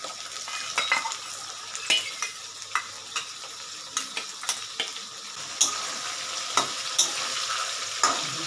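Curry leaves tossed into chilli chicken in a pan, a continuous close sizzle with regular spatula scrapes and taps on the metal every second or so.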